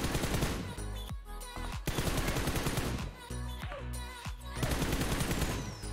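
Rapid automatic gunfire in a shooting video game training drill, dense sustained bursts of close, loud shots with brief pauses between sprays.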